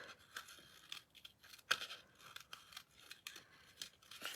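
Scissors snip through paper while a stamped ladybug craft is cut out. The cuts come as a series of quiet, crisp strokes at an uneven pace, with one louder snip near the middle.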